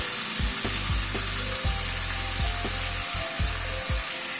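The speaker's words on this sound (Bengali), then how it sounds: "দই আর কাজু পোস্তর যে মিক্সচারটা আছে সেটা ঢেলে দিলাম।" A yogurt, cashew and poppy seed paste hits frying mutton, setting off a loud, dense sizzle close by, with a few sharp ticks and a low intermittent hum underneath.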